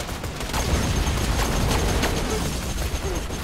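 Rapid automatic gunfire from an incendiary fire weapon in the video game Borderlands 2, a dense loud burst of crackling shots and booms filling the whole moment with no pause.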